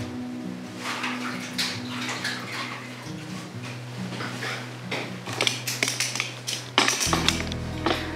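Running water rinses a face mask off a client during a facial cleansing treatment, a steady broad splashing wash that continues throughout and grows busier with spattering toward the end.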